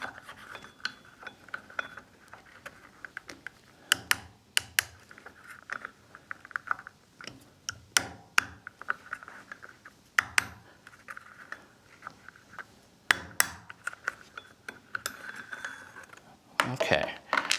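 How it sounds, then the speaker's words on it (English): Sharp, irregular taps and clicks as a nylon piece is knocked through the magazine well of a 1911 pistol frame held in a vise to free a part; the sounds are close but fairly quiet, spread across the clip with mechanical clatter between them. "I'm gonna use a piece of nylon through the magazine well just to tap it loose."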